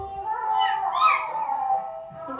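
A voice imitates a cat, drawing out one long, wavering meow across about two seconds, close and clear in a quiet room.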